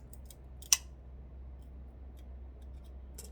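Garden scissors cut a Lycaste orchid's red flower stalk, giving one sharp snip against a faint, quiet background hum, with a few softer ticks of the blades before and after.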